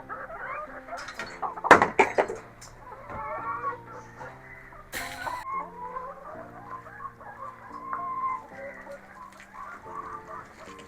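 Chickens cluck softly inside a backyard coop, with scattered calls over a low background hum and a couple of sharp knocks or clatters.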